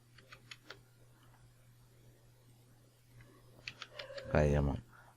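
Keys tapped on a computer keyboard while dimensions are entered in a CAD program: sparse clicks first, then a quicker cluster, close and soft, with a voice speaking briefly near the end.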